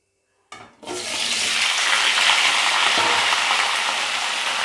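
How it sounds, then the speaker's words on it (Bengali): Sweet potato, potato and pumpkin hit hot oil in a pan with a sudden loud sizzle that settles into a steady, close frying hiss. "প্রথমে দিয়ে দেবো মিষ্টি আলু আর এমনি আলু আর একটা এই কুমড়োগুলোকে দিয়ে দেবো দিয়ে দিয়ে প্রথমে এটাকে আমি একটুখানি ভেজে নেব"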